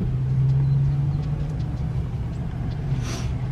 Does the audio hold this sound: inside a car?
yes